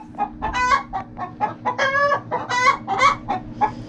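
Chickens cluck and bawk in a steady run of short, harmonic calls, close and fairly loud over a low mechanical hum, several birds overlapping with repeated sharp squawks.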